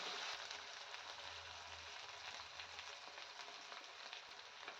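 A garlic, ginger, coriander-leaf and green chilli masala fries for a mutton and potato curry, giving a soft, steady sizzle and crackle heard close but quiet, with no talking over it.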